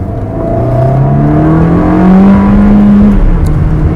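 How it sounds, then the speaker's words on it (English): A 2004 Ferrari 360 Spider accelerates in second gear in normal mode, a loud, close engine note climbing steadily in pitch for about three seconds before easing off, with no talking. "Not for racing right now, but just to give you a feel for the engine."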